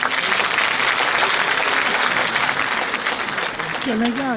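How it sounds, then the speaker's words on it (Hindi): Audience applause at a large public rally addressed by a chief minister, a loud sustained roar of clapping from many hands, with a voice speaking over it near the end. "कितनी खुशी है ये अपनी तालियों से जरा दर्शा दीजिएगा।"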